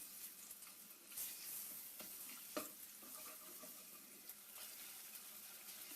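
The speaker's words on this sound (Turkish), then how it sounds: "Yağımız kızdıktan sonrası hemen şöyle bir domates salçası ilave edelim. Dilerseniz az bir şey biber salatası ekleyebilirsiniz. Şu şekilde güzelce kavuralım." Tomato paste and pepper paste fry gently in oil, a faint steady sizzle with occasional scraping stirs and a few small clicks of a utensil.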